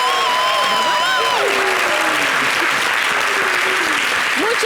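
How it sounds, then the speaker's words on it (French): Studio audience at a television variety show applauding steadily throughout, a dense wash of clapping and cheering with a voice briefly gliding over it early on. "Est-ce qu'on peut applaudir plus fort que ça?"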